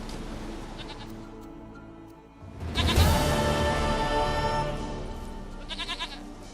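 A goat in The Witcher 3 bleats in a wavering, nasal call that swells loudly midway, with shorter quavering bleats before and after over quiet game ambience, no speech.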